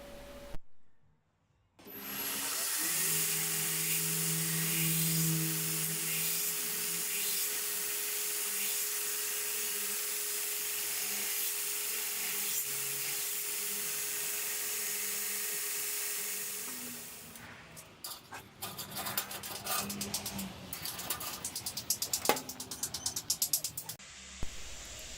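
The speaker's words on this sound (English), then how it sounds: "Now that the temper cycle is complete, we can start our finish grinding. Here I'm using a 60 grit ceramic belt." A belt grinder with a 60 grit ceramic belt grinds a forged san mai steel knife blade, a loud, steady high-pitched whine running continuously for about fifteen seconds before giving way to uneven, scratchy grinding passes.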